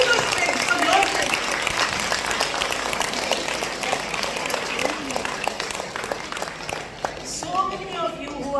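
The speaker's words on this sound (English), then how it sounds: "Give yourself a big hand. Clap." An audience at a yoga and motivational talk applauds itself, producing continuous mixed clapping with some voices and cheering mixed in, fairly loud and sustained throughout.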